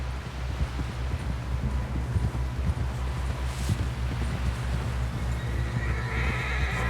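Horse from Red Dead Redemption 2 being ridden, with a steady rhythm of hoofbeats under wind and a brief whinny partway through, fairly close.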